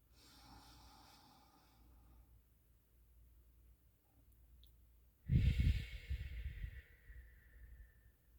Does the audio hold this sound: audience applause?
no